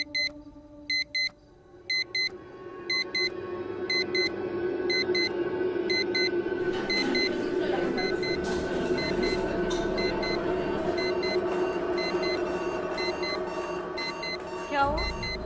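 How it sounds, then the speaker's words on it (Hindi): An alarm clock goes off by itself at two in the night in a hostel, its repeated bursts of electronic beeping starting alone, then continuing under a rising wash of eerie drones and noise. "2 बजे अलार्म्स खुद बजना शुरू हो गए"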